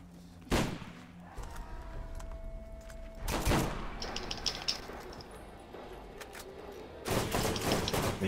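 Bursts of machine gun fire in the shooter Borderlands: three loud volleys, the first short and the later ones longer, separated by quieter stretches of mechanical clicks and ambient game noise, with no talking.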